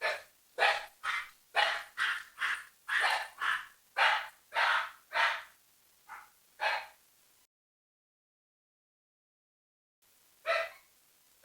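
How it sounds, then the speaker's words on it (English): Dogs bark in a quick run of about a dozen sharp barks, then fall silent before one last bark, fairly close and with no talking. "And of course, dogs bark."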